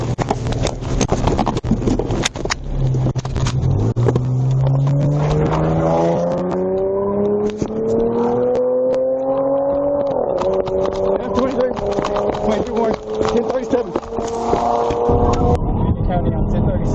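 Stolen Chevrolet Camaro accelerating away from a traffic stop, its engine revving and climbing in pitch over several seconds amid steady road noise, with voices talking over it.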